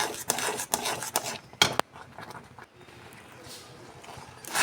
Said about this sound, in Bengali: পাউডার দুধটা দিয়ে আমি আবারও খুব ভালো করে এর সঙ্গে নেড়েচেড়ে মিশিয়ে নেব